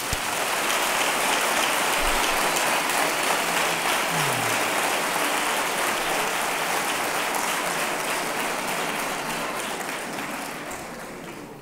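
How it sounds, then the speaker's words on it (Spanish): Sustained applause from an audience at an Andalusia Day sports gala, a dense wash of clapping at full strength that holds steady and then thins slightly toward the end. "un aplauso para el club y para Pedro"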